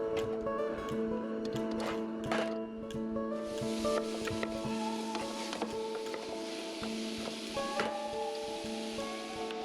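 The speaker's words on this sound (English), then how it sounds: "turn on the heat and leave them to sizzle" Steady crackling sizzle of apples cooking in a hot pot in a portable car oven, continuous and close, with faint clinks and a few tonal hums over it.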